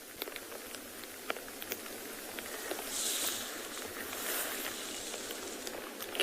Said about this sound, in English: You can probably hear the rain now.